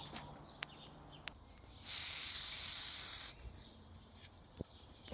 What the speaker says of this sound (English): today I'm going to be spray painting this sword that I've made